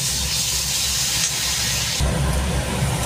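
Spices with cumin and coriander powder sizzling hard in hot oil in a pan, cooked down for a fish roe curry; a steady, loud hiss runs throughout, growing slightly stronger partway through as the masala is stirred.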